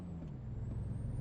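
A heavy truck in American Truck Simulator lets out an air brake sound, a sustained pneumatic hiss over a low engine rumble, steady and fairly close.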